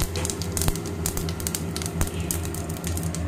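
Cumin seeds sizzle in a small amount of hot oil, giving a steady close crackle with scattered sharp pops and a low background hum, with no one speaking.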